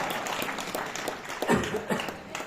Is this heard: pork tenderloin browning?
no